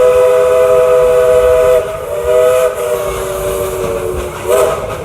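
Dollywood's steam locomotive No. 192, Klondike Katie, sounds a long, loud steam whistle with steady harmonic tones, with a second short whistle blast near the end over the rumble of the idling engine.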